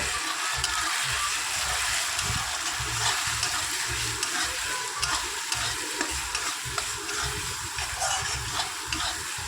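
Chicken with turmeric, salt and a pinch of sugar fries in oil at home, stirred constantly, giving a loud continuous sizzle with rhythmic scraping and clanking stir strokes close by.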